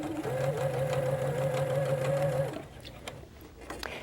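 A sewing machine stitches bias binding piping onto a garment, a steady mechanical whirring hum at close range that runs evenly for a few seconds and then stops, leaving quiet room tone.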